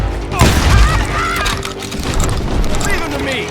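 A heavy shotgun blast booms out in the Western video game Call of Juarez: Gunslinger, a loud low burst near the start followed by rumbling gunfire, horse and mechanism sounds amid a busy game mix.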